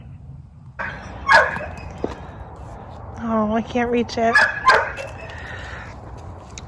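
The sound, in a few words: dogs barking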